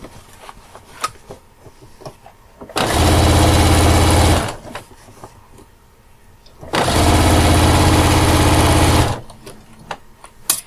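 A sewing machine running a straight stitch to join the side panels of a fabric backpack, in two long steady bursts of several seconds each, loud and close, separated by quieter handling sounds.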